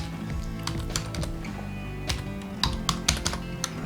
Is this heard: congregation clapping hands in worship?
no